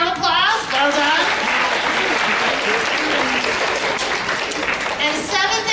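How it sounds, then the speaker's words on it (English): Fifth- and sixth-grade students at a school awards ceremony applaud themselves in a large, loud, steady burst of clapping and cheering that fills the whole stretch, with voices mixed in. "give yourselves a round of applause"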